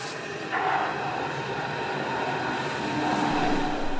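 Berlin S-Bahn S75 train pulling into Wartenberg, the line's terminus at an island platform: a steady rolling rumble of wheels on track with faint tonal whine and occasional clacks, moderately close and continuous.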